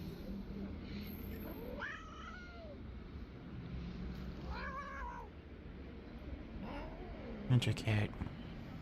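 A cat meows three times, drawn-out rising and falling calls spaced a couple of seconds apart, fairly faint over a low background hum, with a brief clatter near the end.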